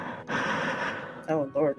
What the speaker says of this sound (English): Oh Lord, now we got heavy breathing.